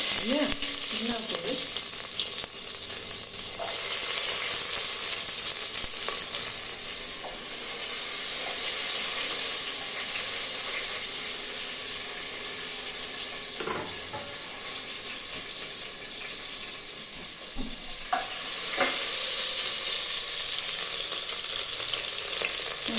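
Onions frying in a pan for rice and dal, a steady loud sizzle and hiss with occasional scrapes of stirring, close up and continuous with no talk.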